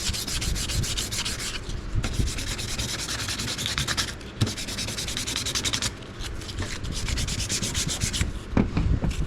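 Rough sandpaper rubs steadily over a carved wooden wand, a close, continuous gritty scratching with a couple of short breaks and occasional light knocks.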